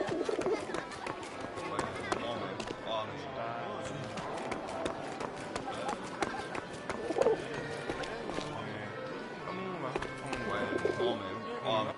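A pigeon or dove coos softly and repeatedly indoors while several people talk over it during a card game, the bird sounds faint and intermittent beneath the conversation.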